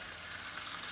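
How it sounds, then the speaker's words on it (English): Grass-fed steak sizzling in a hot pan on maximum heat, a steady, dense crackle with no pauses, close and moderately loud, with no voices. "Oh, that sounds lovely, sizzling."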